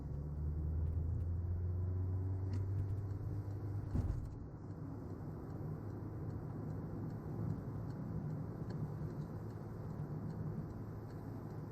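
A car engine accelerates during a driving lesson, a low, moderately quiet rumble with a rising hum early on, a brief knock around the middle, then steady road noise under the cabin.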